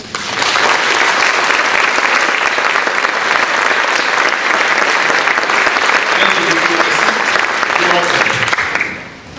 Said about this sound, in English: I truly believe they need a round of applause